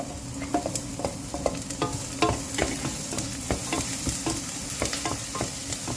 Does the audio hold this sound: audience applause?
no